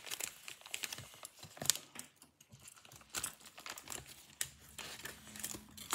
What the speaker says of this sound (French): Un gros paquet que je vais ouvrir de suite